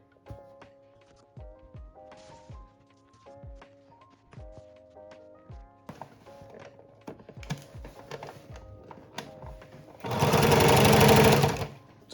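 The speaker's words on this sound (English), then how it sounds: "I'm going to sew it down with a 5/8 inch seam allowance" A sewing machine stitches a seam on dungarees in short rhythmic bursts of rapid clattering, close up, ending with a louder hissing whir.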